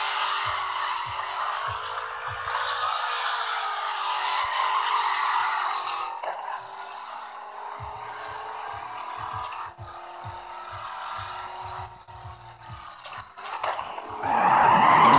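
Car drifting in the CarX drifting video game, a loud sustained tire squeal and skidding over a droning engine, shifting in pitch throughout with occasional low thumps and a rising engine note at the end.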